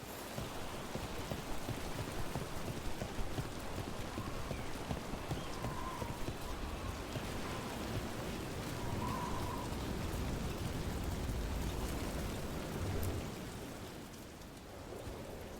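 Steady, dense rainfall in the fantasy video game Dragon Age: The Veilguard, a continuous hiss of drops on surfaces throughout, with no one speaking.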